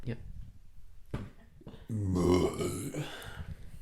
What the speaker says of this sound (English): There's burps.